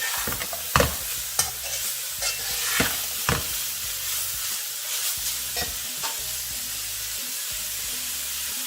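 Vegetables with adobo sauteing in a pan, a steady soft sizzle broken by repeated sharp scraping stirs of a utensil against the pan, close and fairly quiet.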